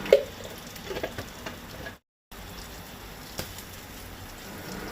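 Ash gourd being stirred into a Goan jackfruit and small prawn bhaji in a pan: a soft, low sizzle with faint scraping stir strokes, quiet and steady, briefly cutting out partway through.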